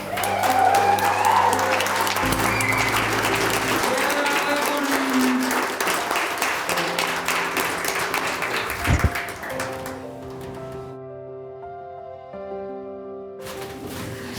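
Applause for graduates at a Nunavut graduation ceremony: a full crowd claps loudly, then the clapping thins and dies away into near quiet before a few last claps return at the end.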